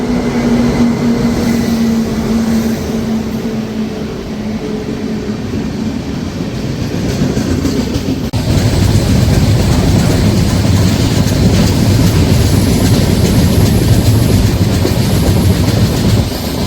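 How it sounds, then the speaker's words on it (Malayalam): A passenger train at Cherthala railway station in Kerala rolls along the rails, a loud, close, continuous rumble with rhythmic wheel clatter that grows heavier partway through, with no voices. "നമ്മുടെ ട്രെയിനുള്ള സമയമായി."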